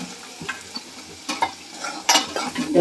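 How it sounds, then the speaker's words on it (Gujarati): Cabbage sautés in a pan for a Gujarati-style dhokla dish, giving a steady sizzle broken by scraping stirs that grow louder toward the end, with no talk. "હવે આપણે જરીક વાર સાતળી લઈએ"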